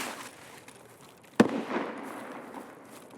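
A single Mosin rifle gunshot in the video game Escape From Tarkov cracks once at a distance, then a short rolling echo fades away over quiet ambience.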